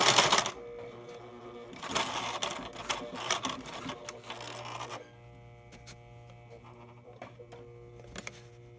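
Sewing machine running a blind stitch along a jean hem, with bursts of rapid mechanical stitching up front, then quieter intermittent clatter and handling of fabric.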